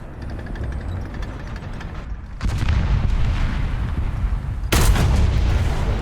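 A tank cannon fires in the War Thunder video game during a Magach 6C battle: two loud, close booms with sharp onsets land a couple of seconds apart, each followed by a rumbling roar and engine noise.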